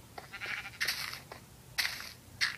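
Sheep on an animal farm in Minecraft Pocket Edition let out four short synthetic bleats spaced about a second apart, moderately quiet, with no talk over them.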